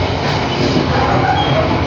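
Wijaya Kusuma passenger train running along the rails, a steady, loud broadband rumble and rattle heard from inside the carriage, continuous throughout without clear clicks.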